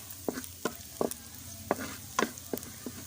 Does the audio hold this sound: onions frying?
yes